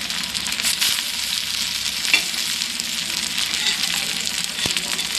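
Chicken pieces shallow-fry in oil on a tawa, giving a loud, steady, close crackling sizzle with an occasional light tap, no voices.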